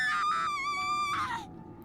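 A female character in Xenoblade Chronicles 2, voiced in Japanese, lets out a single sustained, wavering high scream that rises and falls before cutting off abruptly, loud and close.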